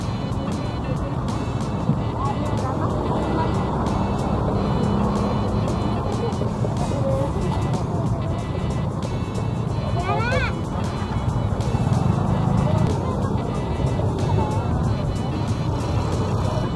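Jammed road traffic beside a long Ramadan market, with a continuous rumble of idling and creeping cars and motorbikes, one brief horn, and crowd chatter and talk over the top throughout.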